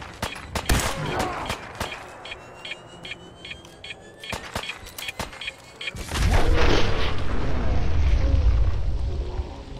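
A heavy explosion in Fallout 4 lands about midway, a loud deep boom rolling into sustained rumble, preceded by scattered sharp pops and clicks of in-game action.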